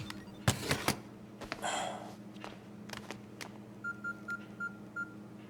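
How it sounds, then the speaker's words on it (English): A phone's electronic ringtone repeats in short, evenly spaced beeps, moderately loud, after a few sharp knocks and rustling nearby. "don't you hear your phone ringing?"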